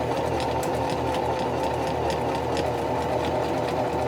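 A sewing machine stitching a paper pocket insert for a junk journal, running continuously with a fast, even mechanical whir and rattle close by.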